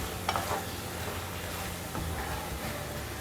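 Eggplant bharta with chopped green chilies and mint leaves is stirred in a pan, giving a low soft sizzle with a few scraping utensil strokes, close but fairly quiet.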